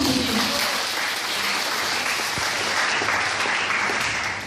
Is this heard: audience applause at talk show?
yes